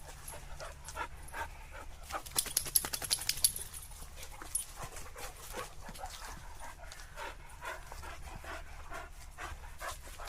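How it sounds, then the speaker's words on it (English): Dogs, a Cane Corso and a Labrador, pant after a walk: quick, rhythmic breathing close by, steady throughout, with a brief burst of louder panting and a few faint whimpers, and no talking. "You're all panting away."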